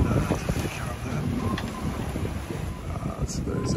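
Strong gusting wind roars across a sailboat on a solo passage, steady and close with heavy buffeting noise throughout, water and hull sounds mixed underneath.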